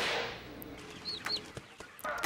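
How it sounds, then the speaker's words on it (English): Chickens cluck and squawk as a stock sound effect in a parody Pokémon-style game, a few scattered clucks and a brief high cry over faint background noise. "Oh man, check it out, chickens."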